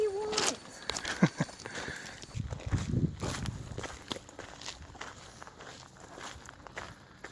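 Irregular footsteps crunch and thud along old railroad ties, close by, with a few faint voices now and then in the background.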